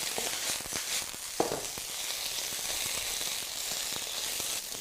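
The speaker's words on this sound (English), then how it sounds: "Right, smoking hot wok, bean sprouts and chives in." Bean sprouts and chives sizzle in a smoking hot wok, a steady crackling fry with scattered sharp pops and occasional tong clatter, moderately loud and close, with no talking.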